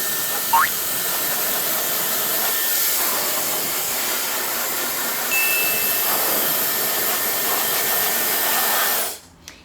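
A T-shaped hair dryer runs continuously at strong airflow, a loud, close, steady whooshing roar with a faint whine, which cuts off near the end.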